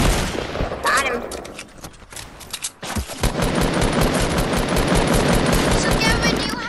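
Rapid bursts of loud video-game gunfire, including pistol shots, crack in quick succession with a brief lull midway, while players talk over the shooting.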